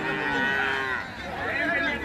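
At the Hazratpur cattle market in Dhaka, a dairy cow with her calf lets out a long, loud moo close by that rises and falls over about two seconds.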